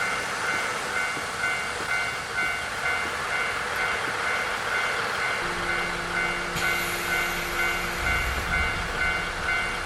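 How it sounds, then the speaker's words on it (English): In a video game, a railway crossing bell chimes steadily over the continuous rumble of a train, with a low sustained horn-like tone entering partway through, all heard without voices. "There it is, the sound of the railway crossing."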